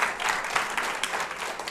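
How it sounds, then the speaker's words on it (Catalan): Studio audience at a Catalan televised spelling quiz applauds a contestant, a steady burst of moderate clapping that fills the short stretch without a break. "T'aplaudim primer."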